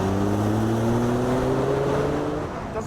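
A Jaguar XJ220 with a twin-turbo engine accelerates hard, its loud, close engine note climbing steadily in pitch for nearly three seconds before easing off, with no speech.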